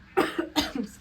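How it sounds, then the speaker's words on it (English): Two or three short, harsh coughs from one person indoors, close and fairly loud, in quick succession within about a second. "why was I coughing for like a good 1 minute right now?"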